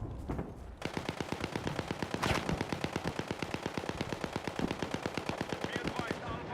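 Rapid automatic gunfire in a video game battle rattles on almost without pause, loud and close, with one heavier blast partway through and some chatter in the background.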